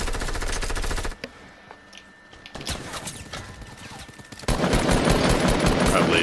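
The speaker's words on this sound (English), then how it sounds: "Right here shooting at me." Video game gunfire crackles in dense rapid bursts, loud and close, breaking off for a few seconds of scattered lighter shots and effects before a heavy barrage resumes.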